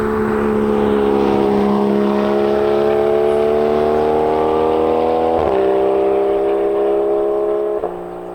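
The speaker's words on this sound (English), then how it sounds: "listen to this car under load and at speed" A Porsche 981 engine under load at speed on a winding mountain road, loud and close, with a steady rising drone that drops abruptly at two gear changes near the end.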